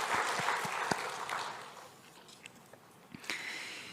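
A church congregation at a Sunday service applauds its volunteers, a burst of clapping that fades to scattered claps midway before a few louder claps return near the end.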